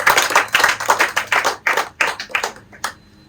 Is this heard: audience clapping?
yes